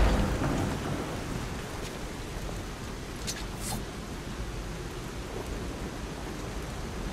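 Heavy rain pours steadily through a rainy night in the video game Lies of P, with a rumble of thunder rolling under the constant hiss and a brief brighter crack midway.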